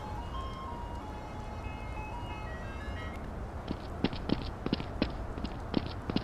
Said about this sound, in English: But listen, is that ice cream? Nope, it's Siren Head.